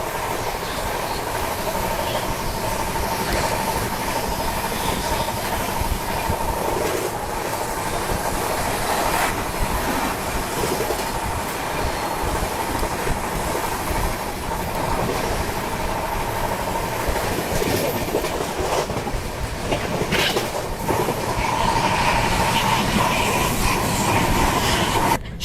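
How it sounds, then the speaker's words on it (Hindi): Rajdhani Express running at about 130 km/h in India, a steady, loud rumble of wheels and carriage noise with rhythmic clickety-clack over rail joints, continuous throughout with no talk. "गाड़ी अब अपनी 130 की रफ्तार में भागना शुरू कर चुकी है।"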